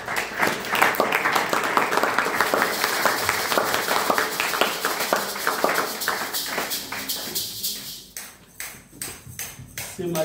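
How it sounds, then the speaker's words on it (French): A church congregation applauds during a worship service, many hands clapping in a dense sustained round that thins toward the end, with voices faintly mixed in. "On applaudit le Saint-Esprit."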